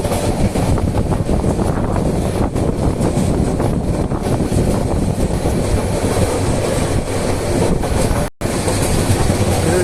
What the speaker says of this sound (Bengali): এখন আলাদা সেতু করা হয়েছে ট্রেনের জন্য, সে সেতু দিয়ে এখন আমরা আগাচ্ছি।